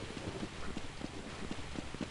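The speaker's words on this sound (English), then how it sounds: "It's raining." Steady rain falls in a Counter-Strike 1.6 match, a constant soft hiss with faint rhythmic thuds like footsteps, fairly quiet with no talk.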